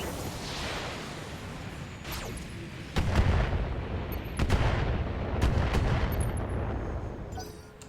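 Rapid bursts of missile and weapon fire from the Battletech video game as a mech keeps launching Inferno LRMs, a dense, continuous barrage with sharp cracks and booms, loud and steady throughout.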